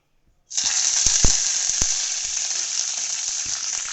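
Curry leaves hit hot oil in a kadhai wok and burst into a loud, steady sizzle that starts abruptly and holds with a few sharp crackles and pops, with no talking.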